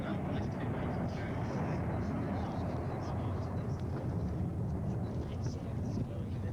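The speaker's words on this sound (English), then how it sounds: "So here comes the aircraft for its first pass." An RNZAF Boeing 757 jet makes its first pass at an airshow, a steady, dense engine roar holding loud and broad throughout with no clear rise or fade.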